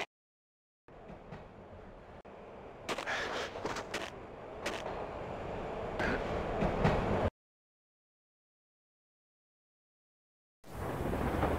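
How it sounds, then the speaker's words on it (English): Rumbling train ride in the Max Payne video game: a heavy, loud roar with rattling bursts and clanks for several seconds, cutting to silence, then the rumble resuming. "This was my second train ride of the night."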